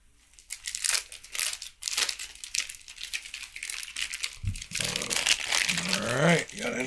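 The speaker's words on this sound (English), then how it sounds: "Let me get into the packaging here" Tightly taped packaging around a TwoSun TS195 knife being pulled and torn open, close crinkling and crushing of plastic and tape in uneven bursts, with someone talking partway through.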